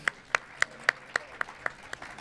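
Slow, rhythmic clapping of about nine evenly spaced claps, fairly faint and close, welcoming a guest onto a Catalan music show stage, fading slightly toward the end.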